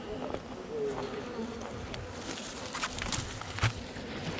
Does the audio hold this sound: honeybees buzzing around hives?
yes